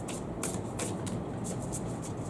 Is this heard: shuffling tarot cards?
yes